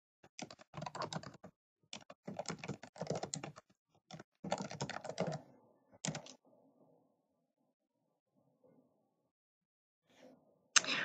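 Rapid bursts of typing on a computer keyboard, close and fairly quiet, as account details and a password are entered into a customer portal, with pauses between entries and a final sharper keystroke at the end.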